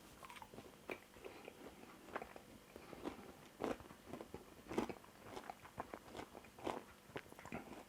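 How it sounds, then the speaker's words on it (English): Close, crisp crunching of someone biting into fried crispy chilli chicken, a string of sharp bites and chewing crackles spread irregularly over several seconds with no talking. "You can probably hear the crunch through the microphone."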